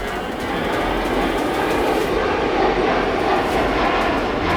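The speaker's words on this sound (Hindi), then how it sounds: "सुखोई 34 2200 किलोमीटर प्रति घंटे की रफ्तार से उड़ता है।" A Sukhoi Su-34 jet aircraft flying, a loud, steady, broadband engine roar that holds for several seconds with no break.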